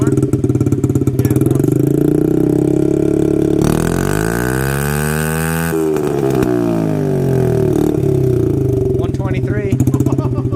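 Honda CRF 50 with its exhaust baffle removed, revving loud and throaty up close, the engine pitch climbing and falling through several sweeps, with voices talking over it.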